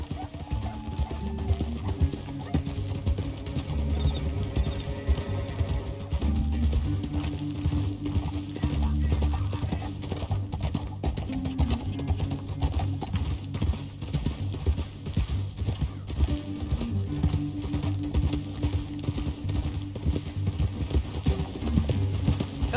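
Horses in the video game Red Dead Redemption II keep up a steady rhythmic clip-clop of hooves at a gallop, continuous and fairly close, with a neigh and voices talking over the hoofbeats.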